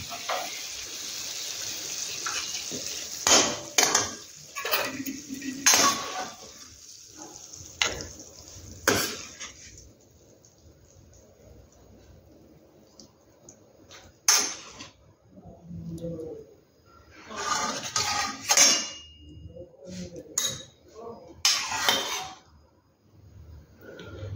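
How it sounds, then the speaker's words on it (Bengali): A kadai is washed in a home kitchen before frying luchi: scattered splashes, scrubbing and metallic clatter come in irregular bursts with quiet gaps between them, close by. "এবার আমি কড়াইটা ধুয়ে এবার লুচি ভাজার জন্য রেডি করে নিই।"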